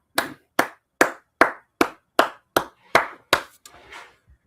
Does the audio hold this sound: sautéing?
no